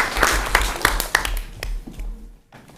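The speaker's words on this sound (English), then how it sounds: "Let's give Nimit and Ruth a round of applause," A short burst of clapping in a school committee meeting room for two honoured students, a few sharp claps standing out before it quickly dies away.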